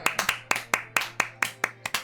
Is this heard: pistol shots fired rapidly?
no